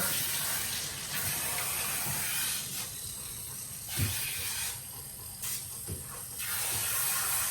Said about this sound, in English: make sure you can get water rinsing all the way down to the skin